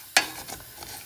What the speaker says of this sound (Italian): Faccio tostare un po' col soffritto